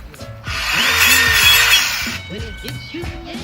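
A DeWalt circular saw trims tree branches for a treehouse build, a loud whining cut of about a second and a half close by, with someone talking over and around it.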